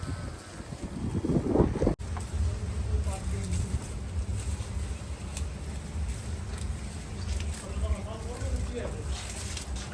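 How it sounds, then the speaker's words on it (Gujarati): Strong wind gusting outdoors on a farm with Kankrej cows in Banaskantha, a loud continuous rush buffeting the microphone, with a brief knock near the start and a person speaking over it. "પવન બહુ જ છે, જોઈ શકો છો."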